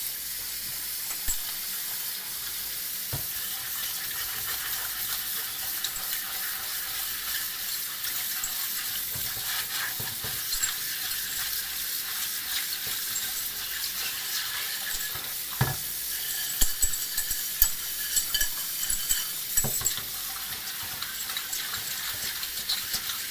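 A cast iron cornbread pan is scrubbed under running water with a chainmail scrubber, giving a steady wash of tap water with scraping and splashing, plus a few louder knocks and scrapes near the middle and toward the end.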